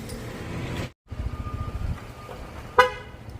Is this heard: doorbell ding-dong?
no